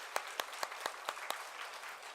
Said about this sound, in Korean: 다시 크게 한번 하나님께 영광의 박수를 돌리겠습니다